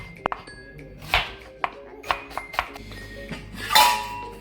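Several knife strokes chopping onions thud against a cutting board at an uneven pace, with light clinks of kitchen utensils in between.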